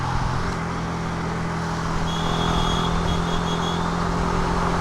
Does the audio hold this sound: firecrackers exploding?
no